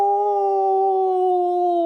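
A storyteller's voice imitates a wolf howling, giving one sustained, steady, loud tonal howl that holds at a single pitch for about two seconds, close and alone.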